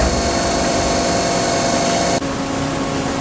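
A steady, loud hiss and whir comes from a Haas CNC machine engraving black aluminum held in a vise, running continuously up close and shifting slightly in tone near the end, with no talking.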